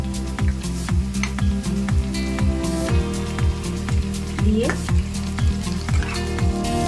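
Tomatoes and green chilies sizzle steadily in hot oil in a pan while being stirred, for a Bengali kachki fish chorchori, with a scraping stir repeating every half second or so. A voice speaks briefly over it.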